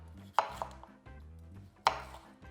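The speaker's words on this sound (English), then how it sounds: "go ahead and get yourself a nice chop" A knife chops a bell pepper on a cutting board, two sharp thuds about a second and a half apart with lighter taps and board knocks between, close and alone over a low hum.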